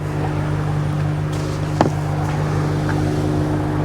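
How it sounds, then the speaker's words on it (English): Ford Ranger Raptor V6 engine and exhaust, a steady low growl from close by, with a brief sharp knock or blip just under halfway through. "This sounds really good for a V6 engine."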